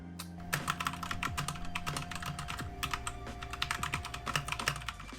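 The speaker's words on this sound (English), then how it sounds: "this is the Keychron K2V2, and you guys are probably already very aware of this keyboard because it's very famous, but it's a mechanical keyboard" Rapid typing on a Keychron K2V2 mechanical Bluetooth keyboard, a steady stream of crisp, close clicks and clacks with no talking over them.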